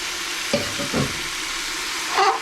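Chicken pieces dropped into hot biryani masala, frying in a pan with a steady close sizzle and a few louder bursts as the pieces hit the oil and are stirred.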